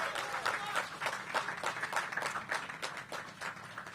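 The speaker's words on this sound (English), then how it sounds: "So let's give them a big round of applause." An audience at a Washington, DC event unveiling affordable senior housing applauds the development team with steady, moderately close clapping in a crowded rhythm lasting about four seconds, with light crowd murmur mixed in.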